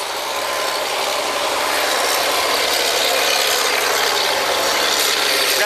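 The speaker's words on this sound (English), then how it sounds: "We've got two mud pumps going." Drilling rig mud pump running steadily as one of two pumps on a well site, a loud continuous broadband mechanical roar with no speech over it.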